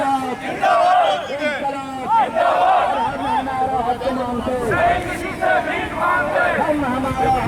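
During a police riot drill in Bhopal, an aggressive crowd shouts and chants in loud, repeated rhythmic bursts, many voices yelling together close by, with brief dips between outbursts.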